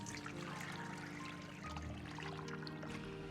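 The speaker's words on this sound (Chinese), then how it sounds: "放入清水先浸泡上" Clean water pours into a large basin holding cut radish pieces, a soft continuous splashing trickle heard close up but quietly.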